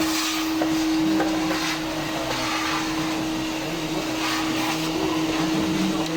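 A vacuum cleaner drones steadily and fairly close, a continuous motor whine with a rough, rushing airflow underneath, running without pause.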